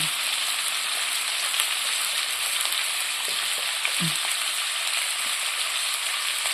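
Onions and tomatoes sauté in a hot pan, giving a steady, even sizzle that runs through the whole stretch, with a faint clink or two underneath.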